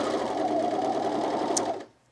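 Industrial sewing machine stitching a blouse seam, a steady close whirring hum for about two seconds that stops abruptly, with a brief snip near the end.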